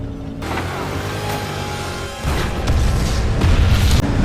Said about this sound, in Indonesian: Bot pun menabrak dan meledak.